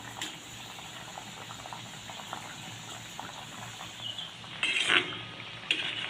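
Crisp nimki dough fry in oil over low to medium heat, a gentle steady bubbling hiss, joined near the end by a couple of short utensil clinks against the pan.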